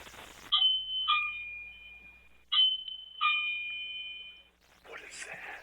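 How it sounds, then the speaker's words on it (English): A doorbell camera picks up a doorbell chime, two pairs of clear ringing tones with a pause between them, followed by faint rustling. "That is the doorbell."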